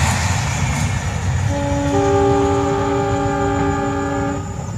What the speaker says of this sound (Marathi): ही रेल्वे अशी आमच्या रानापासून जाते आहे जवळनंच.